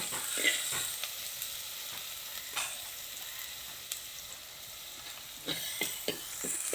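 Ginger-garlic paste frying in a pan with chilli, coriander, fenugreek and turmeric powders, a steady soft sizzle broken by occasional spoon scrapes and stirs, no voices.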